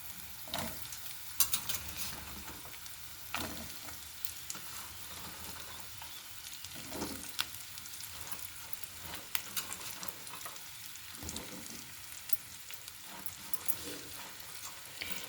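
Okra pieces sizzle steadily in a hot pan, with repeated scraping and clinking as a utensil stirs them at a moderate distance, and no speech.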